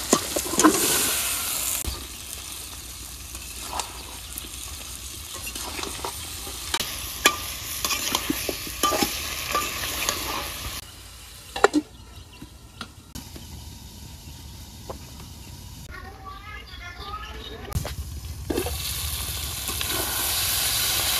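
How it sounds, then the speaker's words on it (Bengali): Flat beans stir-fried in a pan with shrimp and green chilies, a steady sizzle and hiss of frying with repeated scraping stir strokes, close and fairly loud, with no talking. "এই যে সিমটা খুব সুন্দরভাবে আমি কষাইয়ে নিচ্ছি"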